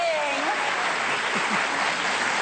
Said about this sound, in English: I can't believe I just got applause for being a good lip syncer